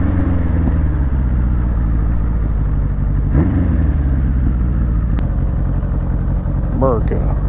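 An older motorcycle on a ride, its engine a continuous loud low rumble with steady harmonic drone, under someone talking throughout.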